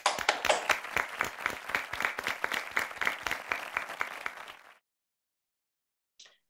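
Applause from the audience at a church press conference welcomes Chairman Man-hee Lee, heard as distinct, rhythmic claps at moderate volume. It fades out after about four and a half seconds, and a brief faint sound follows the silence.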